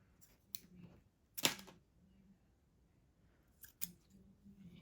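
Scissors snip string for a junk journal in a quiet room: a few soft, close clicks, one sharper crisp cut in the middle, then two more light snips near the end.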